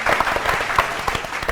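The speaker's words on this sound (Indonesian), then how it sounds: "tepuk tangan dulu sekali lagi untuk kedua tim" A studio audience claps for two quiz teams, a short burst of brisk, fairly loud applause with distinct individual claps standing out in the mix.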